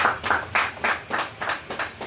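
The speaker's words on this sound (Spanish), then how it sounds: "Dale un aplauso al Señor fuerte" A church congregation claps in a steady rhythmic beat, roughly four strong claps per second, loud and close with no voices over it.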